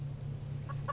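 Chickens cluck faintly in the survival video game Subsistence, with a couple of short clucks near the end over a steady low hum and no talk.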